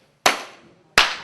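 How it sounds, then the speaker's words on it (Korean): Two sharp, loud hand claps about three-quarters of a second apart, each ringing briefly into a reverberant room with nothing else around. "손뼉 소리가 달라요."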